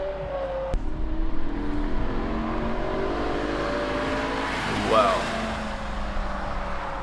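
A rebuilt BMW M6 with a V10 engine revs and drives along a street, a loud, steady engine roar with a rising whine near the end, while a person briefly exclaims.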